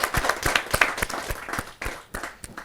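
At a Hindi kavi sammelan, a small audience claps to welcome a senior poet. The claps come close and distinct, a loose, uneven rhythm of separate hand strikes rather than a dense wash, and no one speaks over them.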